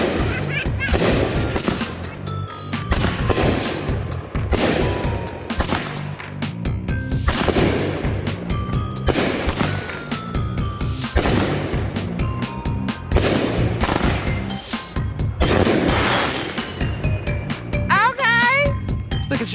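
A 16-shot consumer fireworks cake fires outdoors at a Juneteenth celebration, a steady series of loud booming bursts with crackle roughly every second, people talking faintly between shots.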